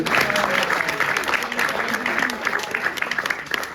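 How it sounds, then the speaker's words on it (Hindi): Audience at a Hindi poetry recital breaks into dense, sustained applause, many hands clapping together with crowd murmur and a voice faintly under it. "आपकी 1 मिनट की एक बार जोरदार ताली पेश"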